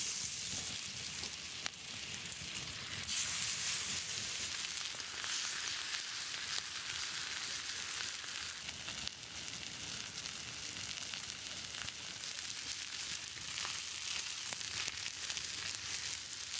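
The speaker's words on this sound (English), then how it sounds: "I'm searing the filet mignon directly on the hot stone." Whisky-injected filet mignon sears on a hot stone outdoors over wood fire, giving a steady, crackling sizzle that runs continuously at moderate level with no voices.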